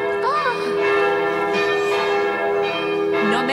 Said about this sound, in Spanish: esas son campanas de boda, Juan.